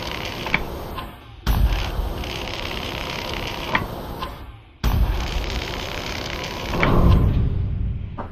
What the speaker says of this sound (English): Looks like I'll have to cut my way in.